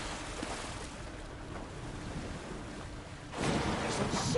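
Muffled underwater ambience from the video game Alan Wake 2: a steady, dull watery rumble with soft shifting swells that grows noticeably fuller and louder near the end, with no voices.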